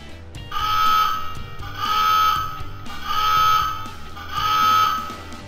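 Alarm effect from a True Heroes Sentinel 1 toy attack submarine: four repeated rising electronic wails in a steady cycle, loud and close, with no voices.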